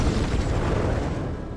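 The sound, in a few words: explosion sound effect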